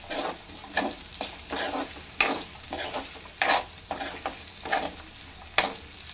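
Spatula scraping and stirring through sizzling spinach and potato curry in a pan, in repeated rhythmic strokes, close and moderately loud.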